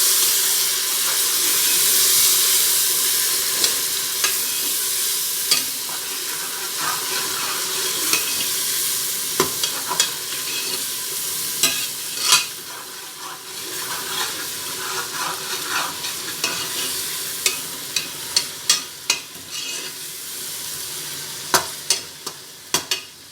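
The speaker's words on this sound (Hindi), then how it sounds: "अब इसमें जाएगा अदरक लहसुन का पेस्ट," A steady hissing sizzle of ginger garlic paste frying in a pan with golden onions, with frequent scraping and tapping of a spatula, growing more rhythmic toward the end.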